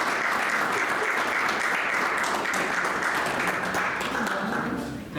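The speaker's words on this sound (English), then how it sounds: "would you please stand up so we can applaud you?" Steady audience applause fills a room at a company meeting, dense and sustained throughout, tapering slightly near the end.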